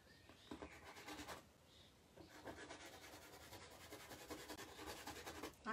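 A painting knife scrapes and drags across canvas in a close, quiet series of rasping strokes, with short pauses between passes.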